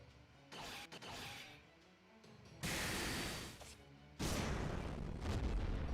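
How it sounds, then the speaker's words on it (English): Explosions in a strategy video game battle against giants and beasts, a series of loud booming blasts with mechanical clanks, the roar swelling in heavy bursts without speech. "explosions everywhere"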